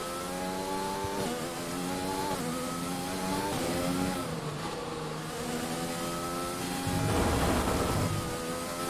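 Formula 1 car engine in the F1 2020 racing game at the Australian Grand Prix, a loud continuous high-pitched whine rising and falling through gear changes, with a harsher surge near the end.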